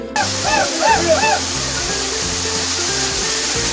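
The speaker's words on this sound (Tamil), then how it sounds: "60 அடி உயரத்துலேருந்து இந்த அருவி விழுகுதுங்க." A waterfall at Kolli Hills in Tamil Nadu drops from about 60 feet, roaring loud and steady as a dense continuous rush, with someone speaking over it and brief bird chirps near the start.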